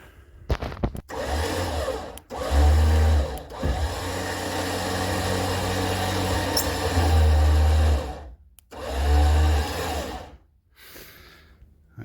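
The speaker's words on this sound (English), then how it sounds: "Now I've got to rig the winch." A winch hoists a wall frame up onto horizontal beams. Its motor gives a loud, close whirring whine in several runs of a few seconds each, broken by short stops and a deeper strained drone.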